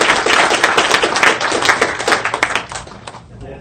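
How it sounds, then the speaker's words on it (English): Close, loud applause from a small audience after a talk on blockchain and cryptocurrency: brisk, crisp hand claps that thin out and die away over the last second. "Big round of applause to"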